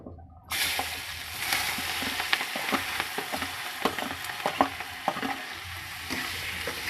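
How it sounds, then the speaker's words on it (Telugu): Onions dropped into hot oil in a pan for an egg curry: a bright sizzle bursts in after a brief silence and keeps going steadily, with scattered stirring taps and no speech. "ఇప్పుడు ఉల్లిపాయలు వేద్దాం"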